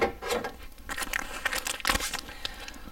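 Sealed packaging around nanofilter membranes is cut and torn open with scissors, giving close crinkling, rustling and sharp tearing bursts in quick irregular spurts.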